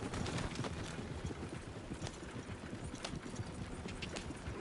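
Horse hooves gallop in the Red Dead Redemption 2 video game, a steady rapid clip-clop drumming that stays constant throughout at moderate level, with no speech over it.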